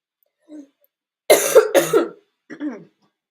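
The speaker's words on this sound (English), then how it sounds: "Still dealing with a cough, but I'll be okay." A short burst of coughing: a faint throat sound, then two loud harsh coughs close together, followed by a softer cough.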